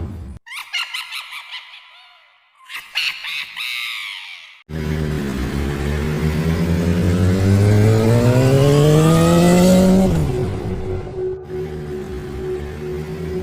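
A motorcycle engine starts with a few short bursts, then revs steadily upward in pitch, loud and close, before dropping back to a settled idle hum.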